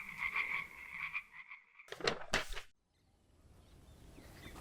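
Frog croaking in an animated children's story: a steady pulsing croak at moderate level, then a few loud close splashy bursts as it jumps into water, followed by quiet background.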